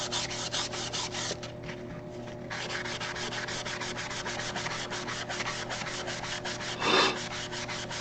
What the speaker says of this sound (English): Get some distressing going on here.